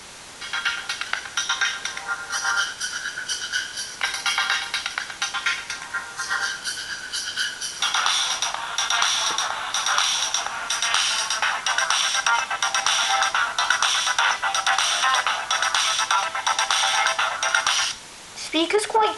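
A ringtone on a cheap £10 mobile phone plays loudly through its small speaker as a busy synthetic electronic melody with some bass, cycling through repeated phrases before it cuts off.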